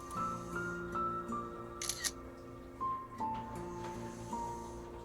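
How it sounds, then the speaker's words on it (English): A phone camera shutter clicks, with two sharp snaps close together over a faint steady background hum and no talking. "I manage to somehow maneuver a finger onto the shutter button, finally taking the shot with a loud click"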